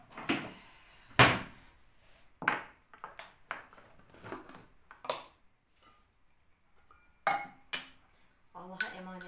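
Sharp clinks and clatters of dishes and cutlery in sporadic bursts while tea is brewed, close and fairly loud, with quiet gaps between and a short voice near the end.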